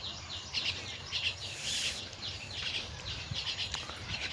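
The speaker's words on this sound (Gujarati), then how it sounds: "કાબર આવી ગઈ કાબર." A common myna calls outdoors beside a yard where vehicles are being washed, a string of faint, repeated chirps and squeaky notes set against soft background noise.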